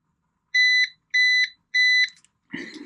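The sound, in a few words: Ruko F11PRO 2 drone remote beeping as it powers up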